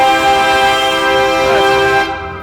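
A car horn blares in one long, loud, steady honk on a New York City street, cutting off near the end.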